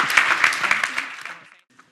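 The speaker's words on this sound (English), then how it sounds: "let's give everyone a round of applause." A conference audience at a restorative justice event breaks into applause, a dense burst of clapping from a crowd that fades out over a second and a half, then a lone final clap.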